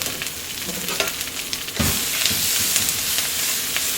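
Pastrami seasoned with salt and pepper sizzles in a pan with a dense, close hiss. A louder surge of frying swells partway through and then holds steady.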